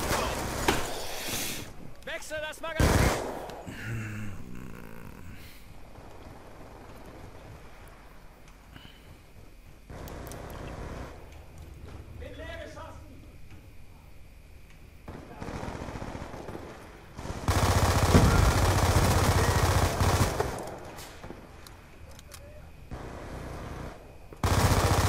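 Machine-gun and rifle fire in the Call of Duty Black Ops II video game, coming in bursts of varying loudness with a loud stretch of continuous shooting near the end, while players talk in German throughout.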